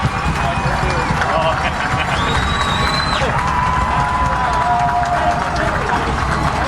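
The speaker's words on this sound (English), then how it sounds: "Just listening to the crowd." A crowd at a high school football game roars and cheers loudly and continuously, a dense wash of voices with occasional shouts and whistles rising above the din.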